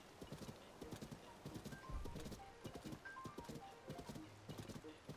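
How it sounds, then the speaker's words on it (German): Horses in the video game Zelda: Tears of the Kingdom, with steady clip-clop hoofbeats running throughout, a brief whinny, and someone talking over them. "Da ist noch ein paar Pferde."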